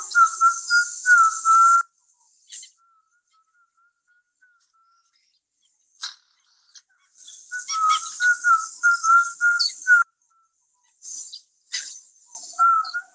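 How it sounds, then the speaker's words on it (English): A Piraha speaker whistles the language, two bursts of rapid, clear pitched whistles with rising and falling tones, close and loud, separated by a near-silent pause with faint clicks. "Piraha can be spoken, hummed, sung,"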